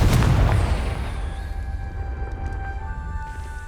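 A Confringo fire spell bursts in Hogwarts Legacy, a loud boom at the start that rolls off into a sustained rumble and rising magical tones, with no talk over it.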